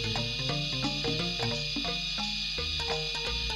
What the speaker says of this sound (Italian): il rumore che state sentendo è quello del caricamento della cassetta